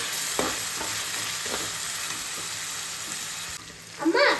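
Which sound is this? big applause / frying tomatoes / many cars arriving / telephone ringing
frying tomatoes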